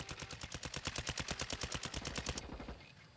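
Rapid automatic gunfire in a video game, a steady, fast string of loud shots lasting a couple of seconds before cutting off abruptly.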